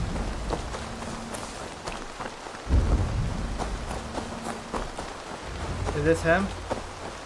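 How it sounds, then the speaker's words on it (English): Heavy rain pours steadily in the Assassin's Creed Valhalla video game, with a low thunder rumble swelling near the middle, while someone speaks briefly over the storm. "It's raining hard as shit."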